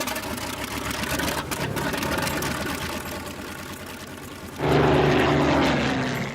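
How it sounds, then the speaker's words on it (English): A propeller plane takes off from a Fort Lauderdale runway in the afternoon, the engine droning steadily before surging abruptly into a loud, full roar near the end. "We take off from the same Fort Lauderdale runway at the same time, 2:10 in the afternoon, as Flight 19"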